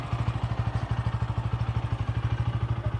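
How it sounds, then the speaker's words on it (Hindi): A Bajaj Pulsar N160 motorcycle engine idles steadily up close, its exhaust thumping in a fast, even pulse throughout. "अब आप इसका इंजन साउंड सुनो, एग्जॉस्ट नोट सुनो।"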